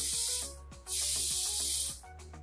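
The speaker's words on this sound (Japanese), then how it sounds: "崩れにくいように髪の毛全体にスプレーを振っていきます。" Hairspray is misted over the whole head of hair to set a bun hairstyle in a salon, heard as two long, steady hissing bursts with a short pause between them, over soft background music.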